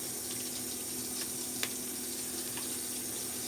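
A sink tap runs with a steady, moderate hiss of flowing water, with a few faint clicks over the stream.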